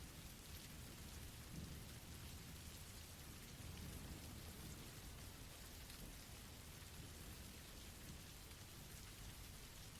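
Steady rain falls in the woods, a soft, continuous hiss of drops at low volume that stays even throughout with no voices.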